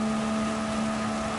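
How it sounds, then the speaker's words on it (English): Race car engine in Gran Turismo 7, wound out hard, giving a brief steady high-pitched whine with no rise or fall, heard alone and close. "Boy, listen to that one engine."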